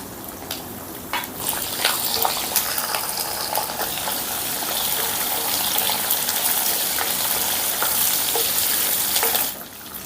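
Slit green chillies and curry leaves hitting hot tempering oil for mango pulihora, a loud, dense, continuous crackling sizzle with sharp spits, close up and unbroken, fading near the end, no voices.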